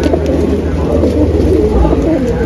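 Pigeons cooing at a pigeon sale, a steady low murmur of many birds close by, with voices talking over them throughout.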